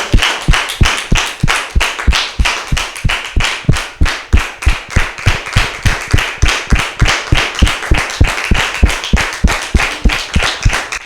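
A church congregation at a baptism service claps for the Lord in steady, rhythmic unison: sharp, loud, evenly spaced claps that run without a break for about eleven seconds, with no voices over them.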